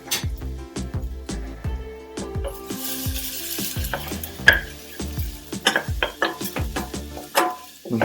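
Garlic, ginger and curry leaf sautéing in a saucepan over medium heat: repeated close clinks and scrapes of a utensil against the pan, rhythmic and fairly loud, over a low sizzle.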